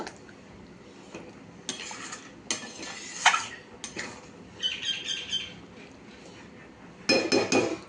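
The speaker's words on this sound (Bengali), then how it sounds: "একটু ঢাকা চাপা দেব।" A lid and metal pot clatter in a home kitchen while spiced curry cooks: several sharp clinks and scrapes in short bursts, with a louder rattle near the end and faint birds chirping in the background.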